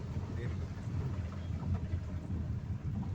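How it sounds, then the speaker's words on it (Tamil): Storm wind blows steadily with low rumbling gusts as heavy rain eases off, a constant broadband roar close to the microphone. "இப்போ மழை குறைஞ்சி கொஞ்சம் காற்று அதிக ஆரம்பிச்சிருக்கு"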